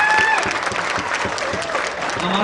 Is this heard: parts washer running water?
no